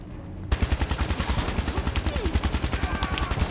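An automatic weapon fires in the Call of Duty Black Ops 3 campaign. After a brief quiet start, a loud, rapid, evenly spaced burst of shots continues steadily to the end over busy game ambience.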